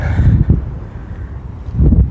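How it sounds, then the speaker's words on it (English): Gusty wind buffets the microphone in open rice fields with a loud, low rumble that swells at the start and again near the end. "wow, windy"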